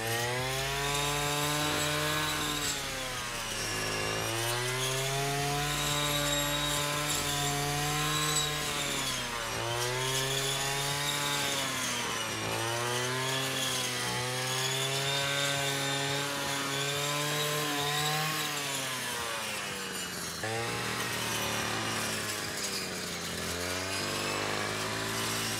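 A brush cutter fitted with a Tsumura disc cutting through very tough grass, its engine whining steadily with repeated rising and falling surges as the blade bites, loud and close throughout without any talk.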